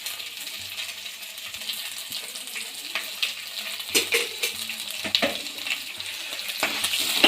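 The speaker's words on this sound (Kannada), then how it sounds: "ಈ ಟೈಮಲ್ಲಿ ಕಟ್ ಮಾಡ್ಕೊಂಡಿರೋಂಥ ಹಸಿಮೆಣಸಿನ್ಕಾಯಿ ಹಾಕಿ." Chopped green chillies frying with ginger garlic paste in a pan, a soft steady sizzle that grows louder midway with sharp stirring clinks and scrapes, close by and free of speech.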